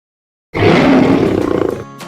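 Lion roar in a dentist advertisement, a single loud, close, deep roar bursting from silence and trailing off into pulsing grunts.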